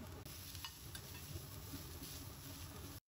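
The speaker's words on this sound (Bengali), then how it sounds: "ক্যাপসিকাম আর গাজর সটে করে নিব লবণ আর গোলমরিচ গুঁড়া দিয়ে" Capsicum and carrots sauté in a pan with salt and pepper, giving a steady, soft sizzle with light stirring scrapes for about three seconds before cutting off.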